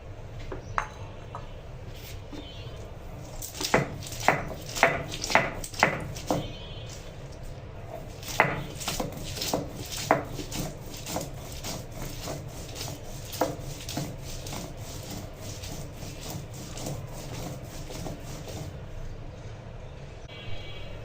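Bean seeds are ground into a paste for bhorta with a run of repeated rhythmic thuds and scrapes, dense at first and then spaced out, close and moderately loud, with no talk.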